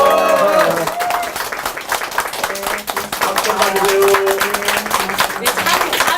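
People at a Korean political campaign office opening clap for a cake cutting, dense steady applause mixed with background voices and some tonal sound underneath.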